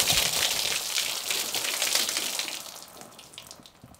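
Water pours steadily over a Samsung Galaxy Z Flip4 or Z Fold4 foldable phone, a close, loud splashing rush that gradually thins and softens toward the end.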